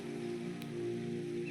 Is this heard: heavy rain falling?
yes